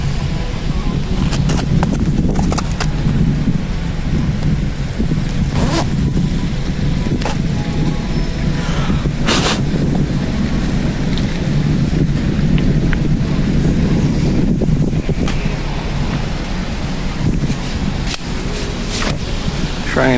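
Rain and gusting wind on a city street in Toronto, buffeting the microphone in steady rushes with bursts of louder noise, while a voice is heard faintly in the background.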